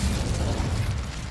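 The Incendio fire spell in Hogwarts Legacy bursts out as a dense, rumbling whoosh of flame, loud and continuous from start to finish.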